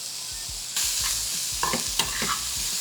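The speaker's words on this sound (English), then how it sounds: "Add a touch of vegetable oil to our pan. Add in our aromatics." Aromatics sizzle in vegetable oil in a pan, a steady close frying hiss with a few scraping stirs and clinks over it.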